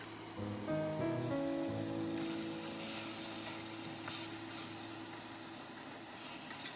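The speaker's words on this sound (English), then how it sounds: "I now add the lamb bones and sear this for 2 to 3 minutes" Lamb bones searing in a pot with sautéed onions and garlic for a turmeric lamb vegetable soup: a steady sizzle and crackle with some stirring and tonal clinks early on, continuing evenly throughout.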